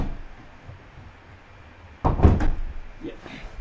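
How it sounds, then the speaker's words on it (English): A house door opening for a cat to go out, heard as a sudden close knock-and-clatter burst followed by lighter handling sounds in a quiet room. "my cat wants to go out the door and she's knocking"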